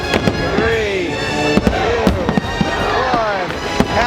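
New Year's fireworks at Epcot, Walt Disney World, crack and pop in sharp repeated bursts while a crowd cheers and talks loudly close by.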